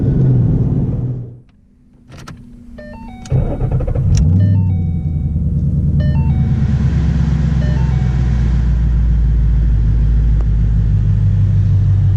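A 2012 Ford Mustang Boss 302 with a 6-speed manual revs, briefly drops off, then settles into a steady, loud, low engine drone while driving, heard from inside the cabin with a few electronic chimes.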